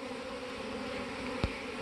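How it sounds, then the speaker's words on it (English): Honey bees buzz and fan at a hive entrance during a swarm capture on a plum tree, a faint, steady, droning hum with a brief louder tap near the end. "the way the bees are fanning this side, that's always a good sign"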